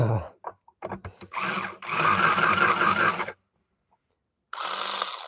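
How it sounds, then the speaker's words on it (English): A harsh, rattling mechanical whir runs in bursts with a gritty, grinding texture, stopping briefly and starting again, close by. "sounds like this thing's got a bad bearing"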